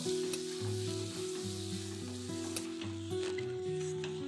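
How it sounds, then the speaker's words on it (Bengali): Boiled lentils stirred into hot sizzling spices for dhaba-style dal tadka, a steady close frying sizzle with scraping stirs, no voices. "এবার এর মধ্যে সেদ্ধ করা ডালটা দিয়ে দেব। ডালটাকে মশলার সাথে খুব ভালো করে মিশিয়ে নেব।"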